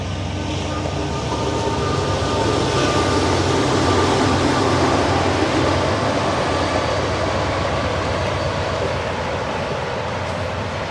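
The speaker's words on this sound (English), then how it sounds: "There's another train." A train rumbles past nearby in a steady, continuous roar of wheels and rail noise, loud throughout with no voices.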